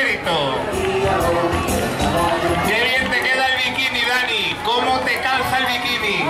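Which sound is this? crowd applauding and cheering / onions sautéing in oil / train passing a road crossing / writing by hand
crowd applauding and cheering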